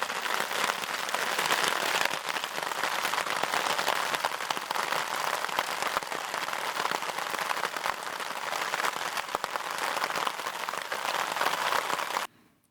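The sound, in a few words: rain and hail falling at a canoe camp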